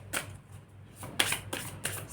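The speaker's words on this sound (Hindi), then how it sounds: "लेट्स सी, एक कार्ड लेंगे यहाँ से।" An oracle card drawn from a deck, giving three quick papery swipes and shuffling slides at a steady rhythm, close and soft, with no talking.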